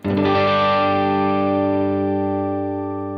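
A single guitar chord is struck through the Headrush Chord Wham pitch-shift effect and rings out clean and even, slowly decaying over about three seconds, with no voices.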